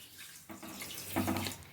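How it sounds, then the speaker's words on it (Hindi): About half a cup of water is poured into sugar to start a syrup for sesame barfi, making a steady, close, splashing trickle over a second or two, with no speech. "तो हाफ कप जितनी पानी डाल दीजिए।"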